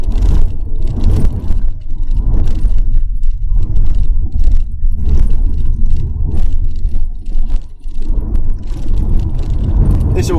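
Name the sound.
rattle from gear stick trim ring in Mazda RX7 FD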